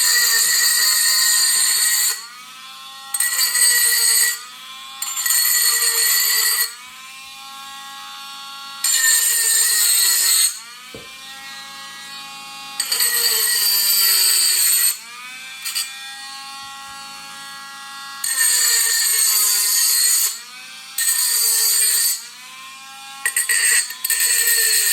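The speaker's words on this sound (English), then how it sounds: "Sand down the top" The cut top edge of an empty tequila bottle is sanded in loud, close bursts of harsh abrasive rasping, each a second or two long, separated by brief pauses in an irregular back-and-forth rhythm.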